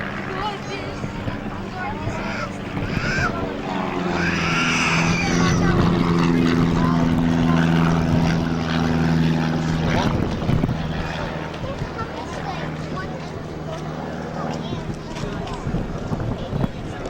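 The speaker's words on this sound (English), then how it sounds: "Aircraft now taking off." A red propeller aircraft takes off at the 1996 Zamperini Field air show at Torrance Airport, its engine drone rising and holding steady with wind rumble while a voice talks over it.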